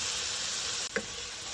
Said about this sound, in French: on a la cuisson des oignons